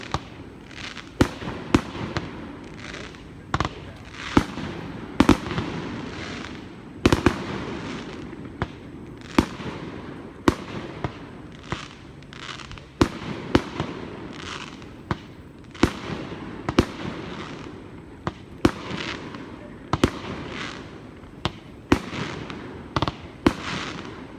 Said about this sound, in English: I wonder where the actual fireworks are going to be shot from.